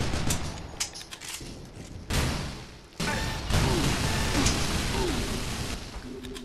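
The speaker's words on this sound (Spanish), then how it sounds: "Disparamos desde la cadera" Hip-fired gunshots in the shooter game Loadout, loud close bursts of rapid fire in several clusters over a noisy battle background, with no talk.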